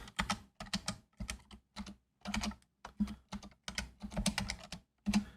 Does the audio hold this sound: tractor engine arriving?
no